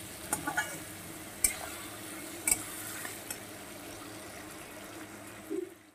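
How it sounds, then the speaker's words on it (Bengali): Vegetables sauté with salt in a pan, a low, soft sizzle broken by a few sharp scrapes and knocks of a spoon stirring. "পরিমাণ মতন লবণ দিয়ে এটাকে সুন্দর করে আমি কষাতে থাকবো।"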